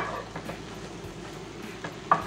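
Cheesy mushroom dip cooking in a pan: a steady low sizzle with faint stirring and one small clink near the end, heard close and alone without talk.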